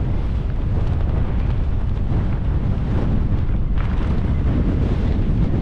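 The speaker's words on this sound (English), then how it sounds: "It's quite a headwind." A strong headwind on a mountain pass roars and buffets the microphone in a loud, continuous rush with no break.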